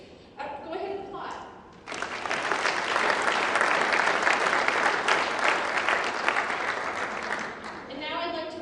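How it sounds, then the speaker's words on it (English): An audience applauds at a Rotary Club meeting in Denver, a sustained wash of many hands clapping that swells and holds for several seconds, with a voice speaking briefly before and after. "go ahead and applaud."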